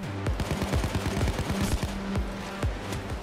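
Rapid automatic gunfire from a video game shooter, sustained bursts of overlapping shots crackling through the whole stretch at steady loudness, with no talk over it.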